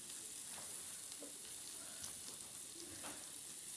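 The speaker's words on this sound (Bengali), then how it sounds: "এবার কড়ার মধ্যে যে তেলটা ছিল ওই তেলটার মধ্যেই আমি পেঁয়াজ কুচি দিয়ে দেব।" Chopped onion sizzles in hot oil in a wok, a soft, steady frying hiss with faint crackles and no voices.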